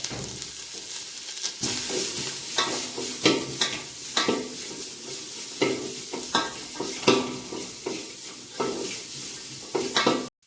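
Ginger sautéing in a pan for a home-cooked remedy, a steady broadband sizzle of frying overlaid with repeated scraping and stirring strokes of a utensil against the pan, fairly close and continuous with no talking.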